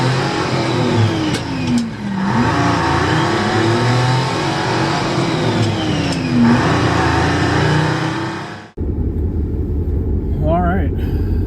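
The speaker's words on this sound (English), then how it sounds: "We are ready to take the Lincoln for the first drive after the engine rebuild." A 1975 Lincoln Continental with a freshly rebuilt 460 V8 on the road, a loud steady engine drone heard from inside with rising and falling revs, then an abrupt change to a quieter idle with a brief voice.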